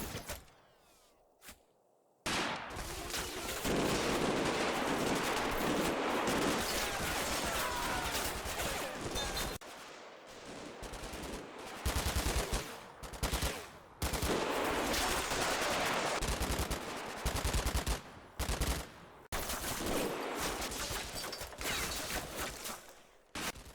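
Machine gun fire in the Combat Mission Final Blitzkrieg wargame, with dense rattling bursts of automatic fire repeating across the scene, loud and sustained with brief gaps between volleys.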